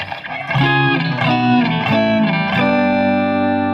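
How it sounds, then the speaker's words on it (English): A few clean electric guitar chords played in sequence through the hall reverb setting of an Electro-Harmonix Oceans 3-Verb pedal, washed in a spacious, lingering reverb that sustains long after the final chord. "Hall reverb."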